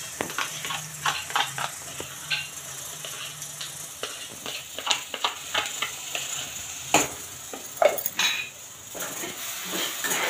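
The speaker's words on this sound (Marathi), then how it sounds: "हिरवी मिरची, कांदा आणि टमाट्याचं वाटण टाकल्यानंतर ते पण चांगलं करून म्हणजे तेल सुटूस" Green chilli, onion and tomato paste being stirred and roasted in oil in a pan, with a soft continuous sizzle broken by frequent scraping clinks of a spoon against the pan, close up and without talk.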